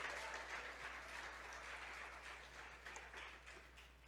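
Congregation applauding in a church, a steady dense wash of clapping sustained throughout at moderate level, with a low constant hum beneath and no talk.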